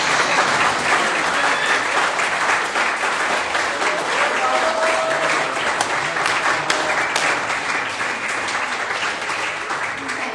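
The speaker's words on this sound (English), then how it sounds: "I want all my athletes give them a round of applause." Audience at an anniversary celebration for a Bikram yoga studio applauds loudly and steadily, a dense wall of clapping that continues evenly for the full length without pause.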